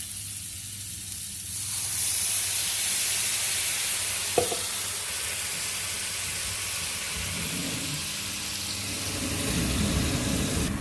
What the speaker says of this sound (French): Je vais verser de l'eau dedans pour créer du jus.